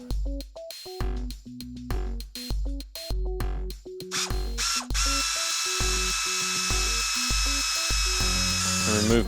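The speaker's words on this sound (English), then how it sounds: "Remove the attaching bolts." A power tool removes the fuel pump bolts on a 1986 Ford F250, with rapid repeated buzzing bursts in quick succession, then a sustained close whine that keeps running loudly to the end.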